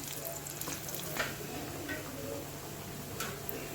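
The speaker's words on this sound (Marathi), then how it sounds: "जो जो आपल्याला व्हाईट वाटत आहे तो आपण 2-3 मिनिटं चांगलं परतून घेऊया।" Onions sautéing in a pan give a steady, soft sizzle with light ticking from stirring throughout, close by and without talk.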